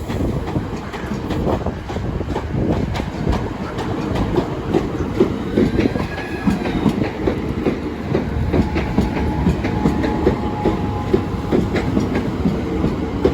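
A Class 395 high-speed unit, 395/16, heads for Ramsgate depot past the Deal level crossing. Its loud, continuous rumble and rhythmic wheel clatter stay close and unbroken, with no talking.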